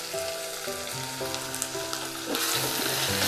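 Onions, tomatoes and chili powder fry on a low flame for a spicy cauliflower dish, a steady close sizzle with stirring scrapes and a louder burst of hiss near the end.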